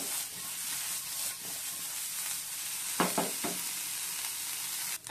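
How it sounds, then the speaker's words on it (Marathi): Vegetables sauté over a high flame in a pan for palak paneer and herb rice, giving a steady close sizzle and frying hiss, with a few brief clatters of stirring near the end. "हाय फ्लेमवरती ह्याला आपल्याला सॉटे करायचं आहे"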